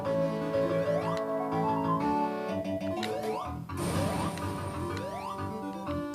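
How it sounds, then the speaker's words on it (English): Sonic hack chiptune music plays on a real Sega Mega Drive at the wrong, too-slow tempo, with dense FM synth lines, sliding and rising tones, and steady loud playback throughout and no voices. "music is too slow here"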